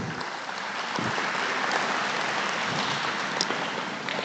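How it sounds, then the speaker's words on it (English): Crowd applause at a state fair cattle show, a steady dense wash of many hands clapping that fills the whole stretch with no pauses and no voices on top. "Folks, give them guys a nice round of applause."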